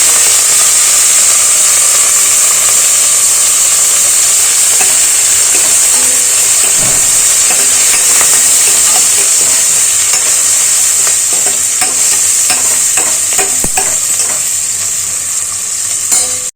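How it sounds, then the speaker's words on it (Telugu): Ginger-garlic paste and turmeric stir-fried in a pan for a Telugu amaranth-leaf dal dish, a steady loud sizzle and hiss running throughout with scraping spoon strokes clicking in irregularly, no voices. "అల్లం ఎల్లగడ్డ పేస్ట్ వేసుకున్నాము దాంతోపాటు పసుపు వేసుకున్నాము ఇవి రెండు పచ్చి వాసన పోయేంత వరకు కలుపుకున్నాము"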